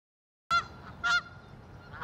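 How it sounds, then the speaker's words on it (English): Canada geese honk outdoors at an engineering college campus, two or three sharp nasal calls following a moment of silence, fairly close and clear against a quiet background. "a winter paradise for Canadian geese who have nested alongside students and researchers alike"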